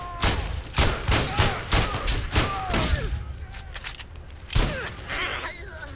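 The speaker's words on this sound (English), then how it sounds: "Behold the power of the shotgun." Repeated shotgun blasts in the video game Borderlands, a rapid series of loud booming shots with mechanical reload clatter between them, close and dominant.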